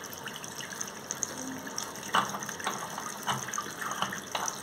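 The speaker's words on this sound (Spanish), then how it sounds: "esto generaría una pérdida de agua importante a la hora de abrir" Water running and leaking from a faulty bathroom sink mixer tap with a worn, loose shaft, a steady close stream with scattered splashes and bursts as the handle is worked, no talking.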